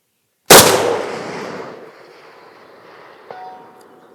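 A single loud rifle shot from an SVD Dragunov fired at a 600-metre target, a sharp crack with a long outdoor echo fading away, then a faint distant impact about three seconds later.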